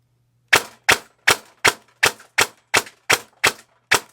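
Ten evenly spaced semi-automatic shots from an upgraded E&L AK-style airsoft electric gun firing 3.2 gram BBs, each a sharp crisp crack, close and alone with quiet between.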